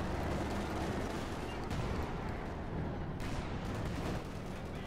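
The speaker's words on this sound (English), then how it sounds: "running straight to the command tank, which immediately proceeds to tear into them with high explosive rounds" Tank in a WWII strategy tournament match firing high explosive rounds: a dense, continuous barrage of booming gunfire and blasts, loud and sustained throughout with little let-up.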